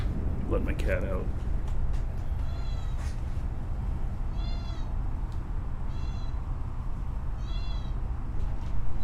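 A pet cat meows several times at fairly even intervals, with clear, mid-loud calls over a steady low hum and faint background talk.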